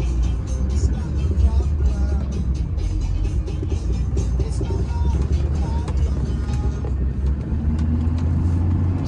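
A maroon 2004 GMC Sierra 2500HD 4WD pickup with the 6.6L engine pulls hard through its gears from inside the cab, a continuous loud low engine rumble with road noise, while a voice speaks over it.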